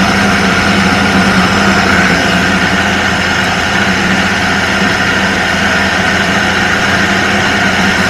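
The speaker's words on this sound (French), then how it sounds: "mixez ensuite 2 minutes vitesse 10 pour bien mixer le tout" Thermomix running at speed 10 on a maximum-size batch of salmorejo, a steady loud whirring drone holding evenly for the whole stretch with no talking over it.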